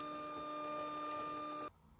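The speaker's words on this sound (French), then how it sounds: "Puis la lame se réajuste et découpe les lignes vertes." A cutting plotter's blade traces outlines on a sticker sheet with a steady, whining electronic hum and motor buzz, close by, before the sound stops abruptly near the end.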